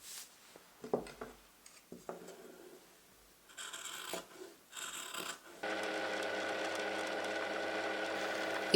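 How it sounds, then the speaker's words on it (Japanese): A 40-year-old sewing machine, used to make an apron, is handled with scattered clicks and rustles, then runs with a steady whirring drone that holds to the end. "40年もののミシンが今も調子よく動いてくれてることに感謝です。"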